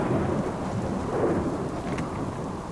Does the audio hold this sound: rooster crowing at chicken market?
no